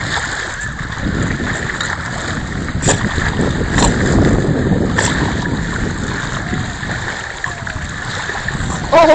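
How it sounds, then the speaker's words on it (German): Heavy sea with strong wind around a boat, a continuous rushing, gusting roar broken by several sharp splashes of waves, loud and close to the microphone. "Oh, Karlie, das war aber schwer mit der Welle, ne?"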